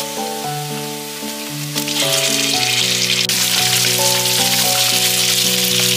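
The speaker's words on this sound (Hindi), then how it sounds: "प्याज को मैंने बढ़िया से फ्राई कर लिया है, तो अभी यहाँ पे पोर्क दे देते हैं।" Pork hits hot oil with fried onion, chilli and cumin in a pan, setting off a loud, dense, continuous sizzle that swells after a couple of seconds, with music playing over it.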